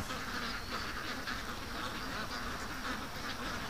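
A flock of ducks raised on a farm quacks in a dense, continuous chorus outdoors, with a busy hiss of other birds and insects behind them.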